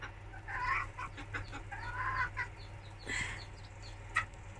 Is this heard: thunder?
no